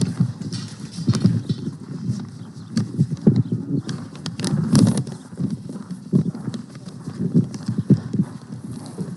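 Horse hooves clip-clop steadily on a hard surface, close by, in an uneven walking rhythm that continues throughout.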